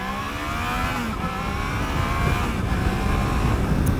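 A new Triumph Trident motorcycle accelerates hard off the line in first gear, the engine note climbing steadily in pitch and loudness as it revs toward the limiter, close and continuous with no talk.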